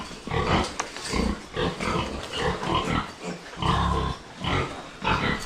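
Pigs grunt and squeal loudly and close by in a rural pen, a steady chorus of livestock noise with overlapping snorts from several animals and no talk.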